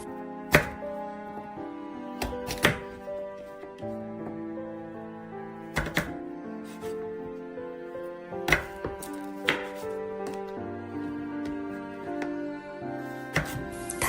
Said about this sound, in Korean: 고구마를 채 썰어 줄 건데요. 가운데를 한번 자르고 눕혀서 다시 얇게 잘라 주세요.